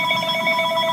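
A telephone ringing indoors, a loud electronic warbling ring with rapid repeating tonal pulses, heard close and alone in a brief burst.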